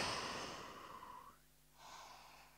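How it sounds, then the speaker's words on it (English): Deep breathing during a yoga workout, held in a child's pose with the forehead on the floor: a long, breathy exhale that fades out, a short pause, then another soft breath, close and alone. "Lovely few deep breaths here."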